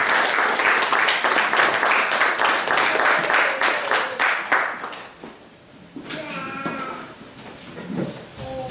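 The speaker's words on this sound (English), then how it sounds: "Put your hands together for pastor." Church congregation applauds for the pastor, a burst of rhythmic clapping for about five seconds that tapers off, then voices with cheering and calls continue afterward.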